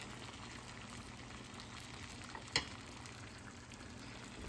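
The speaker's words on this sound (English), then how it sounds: "so our water's now boiling" Water boils in a pot on a stove, giving a steady, soft bubbling hiss with one brief louder pop partway through and no talking.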